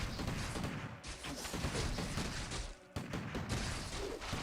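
Dense, continuous gunfire crackles through a Warcraft III battle as a Farseer takes hits, with overlapping rapid shots and clashing combat noise at moderate loudness and a brief dip near the three-second mark.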